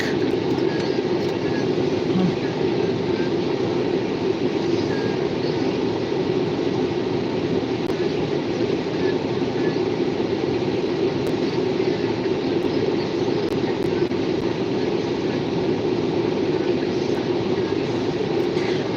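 B&P and CN freight trains pass through Butler, Pennsylvania as a steady, unbroken rumble and rolling roar from railcars, sustained and fairly loud throughout with no voices.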